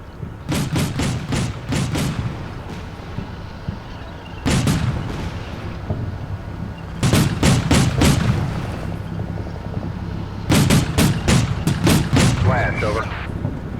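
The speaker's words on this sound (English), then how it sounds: "that must be our artillery coming down" Artillery barrages crash down in the Combat Mission Black Sea war game, loud booming volleys arriving in several separate clusters of rapid impacts, with rumbling between them and a voice talking underneath.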